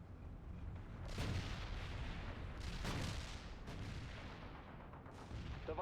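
Gunfire and heavy artillery in a war video game assault on a resistance base: a few booming bursts rising out of a constant low rumble, faint and distant-sounding.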